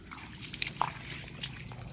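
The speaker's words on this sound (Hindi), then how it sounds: "कपास में सतत पानी वहेतुं रहेलू छे।" Rainwater runs steadily through a cotton field, a faint, continuous trickling and sloshing flow with a few small drips and splashes.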